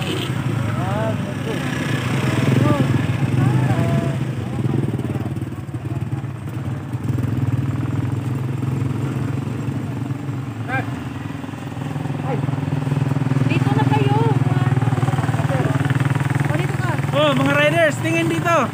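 A motorcycle engine idles steadily nearby near the Bitbit River, a low rumbling drone that swells slightly later, while people talk over it.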